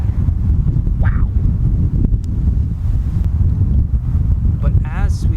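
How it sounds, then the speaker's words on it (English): Heavy wind buffeting the microphone on a drive from San Diego across the border to Tijuana, a constant loud low rumble throughout with no pause. "And it is windy again."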